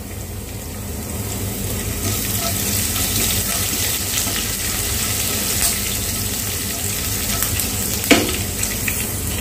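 Garlic, ginger and green chili frying in a pan give a steady, loud sizzle with scraping stir strokes throughout and a sharp clatter near the end, no voices.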